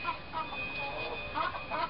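A backyard hen moving between coops gives soft, repeated clucks and short murmuring calls, close by and moderately quiet, with faint background hum.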